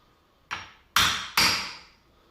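Three sharp wooden knocks, the first lighter and the next two heavy, each strike ringing briefly before the next; a wooden mallet hammering on a hinge cutting jig.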